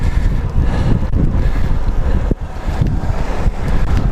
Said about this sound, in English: we got the wind blowing pretty good